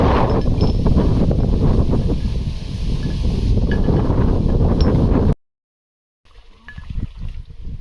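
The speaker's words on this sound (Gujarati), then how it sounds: "એમાં પાછો પવન છે અત્યારે" Gusty wind buffets the microphone outdoors on a farm plot, a loud rumbling roar that cuts out briefly and then returns in weaker gusts.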